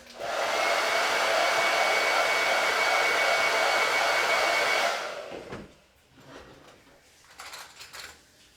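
A hair dryer blows steadily and loudly on chalk paste for about five seconds, then cuts off, leaving faint clinks and handling noises.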